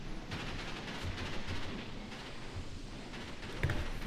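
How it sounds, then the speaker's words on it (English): Dense, continuous gunfire in Graviteam Tactics rumbling at a steady distance, a constant barrage of overlapping shots with a slightly heavier burst near the end. "The amount of gunfire we're throwing down is incredible."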